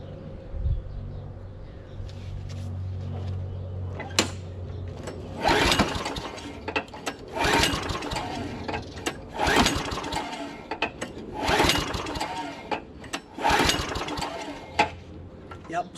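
A small lawn mower engine with a suspected carburetor or spark problem is pulled repeatedly, giving several loud rattling bursts of cranking that sputter without catching, with mechanical clatter between pulls.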